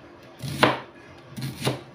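Two separate knife chops through an onion on a cutting board, each a crisp, fairly close thud about a second apart, prepared for liver beef steak.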